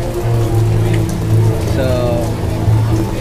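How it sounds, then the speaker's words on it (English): Steady rain falls on surfaces outdoors at a theme park, a continuous hiss with a low rumble, while a voice briefly speaks. "waiting for the rain to pass"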